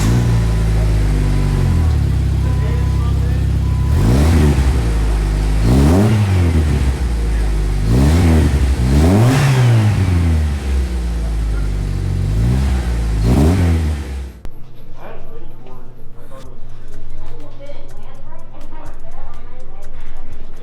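A Jeep TJ engine running and revving with a newly fitted exhaust and muffler, loud and close, with repeated rises in pitch from throttle blips and a deep steady rumble. Voices talk over it in the first half before the engine settles to a quieter idle.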